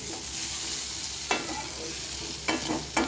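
Soya chili with tomato frying in a pan: a constant close sizzle with a few sharp scraping stirs toward the end, no voices.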